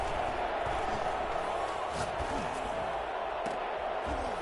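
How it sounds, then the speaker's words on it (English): A stadium crowd in a PS5 American football game gives off a continuous roar and murmur ahead of a big third down, with a commentator's voice running over it. "the crowd getting into it as we come up on a big 3rd down"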